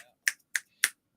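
Three sharp, close hand claps or snaps in quick, even succession, each crisp and brief with silence between, made while demonstrating sound-activated lights.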